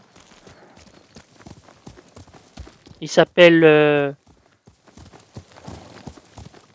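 A white horse's hooves clip-clop in a steady walking rhythm in the video game Ghost of Tsushima. A person speaks briefly partway through, and the hoofbeats continue on both sides of the speech.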